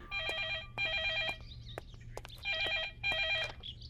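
A telephone bell rings in two repeated bursts of bright trilling, separated by short gaps with faint background noise, heard indoors in a Bhojpuri-dubbed South Indian film scene.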